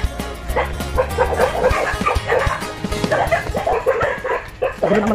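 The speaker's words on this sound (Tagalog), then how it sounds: "Gulo ng mga aso guys." A noisy pack of dogs on a farm keeps up overlapping barks, yips and whines throughout, close by and busy, with faint background noise.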